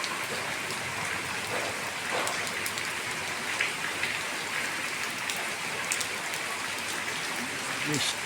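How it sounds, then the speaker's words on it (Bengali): Heavy rain pours down onto a flooded street during a downpour, an unbroken loud hiss with splashing drops close by, steady throughout and without distinct talk. "বৃষ্টি পড়তেছে মুষলধারে।"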